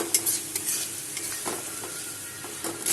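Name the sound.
fried pointed gourds stirred into sizzling spice masala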